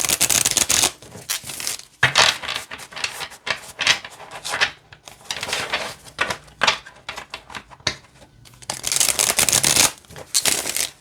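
Fortuna Tarot Amethyst Aura Edition cards, sturdy yet flexible cardstock, riffled and shuffled up close in repeated bursts of crisp rapid flutter, separated by brief pauses and softer sliding rubs.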